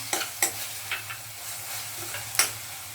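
Tomato with turmeric, coriander-cumin powder and homemade masala sautéing in a pan, a low simmering sizzle punctuated by a few distinct spatula scrapes and taps, close and fairly quiet.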